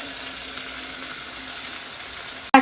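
Onion-ginger paste sizzles in hot oil for a fish curry, a steady close, bright frying hiss running unbroken, ending with a brief knock of a utensil.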